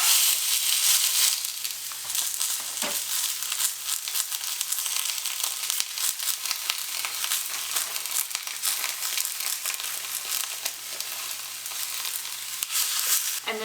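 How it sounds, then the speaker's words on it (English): A beef roast sears in a smoking-hot skillet, giving a constant crackling sizzle from the start with a few soft knocks, steady and close with no talking. "is place the roast into the skillet."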